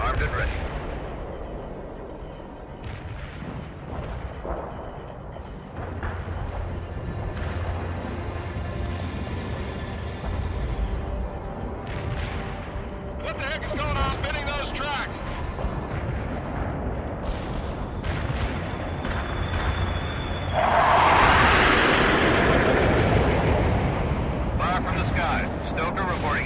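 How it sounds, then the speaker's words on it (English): An artillery barrage in World in Conflict rumbles through heavy rolling booms and blasts that build toward a loud roaring climax, with voices talking over it. "Artillery barrage"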